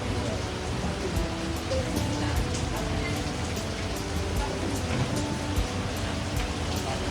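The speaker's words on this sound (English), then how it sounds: "Now I have to wait for the rain to stop." Steady rainfall on a rainy day, a dense even patter of drops hitting surfaces at moderate volume with faint scattered sharper drips, continuous throughout with no voices.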